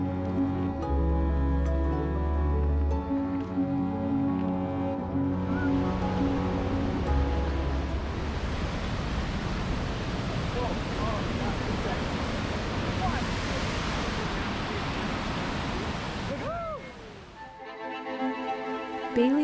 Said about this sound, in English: Bailey Chute is a small but powerful waterfall on the Clearwater River.